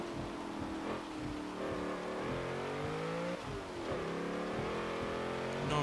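A 2016 Toyota Land Cruiser Arctic Trucks AT37 engine revs hard in Forza, the pitch climbing through repeated gear shifts with brief dips, loud and continuous with no talk.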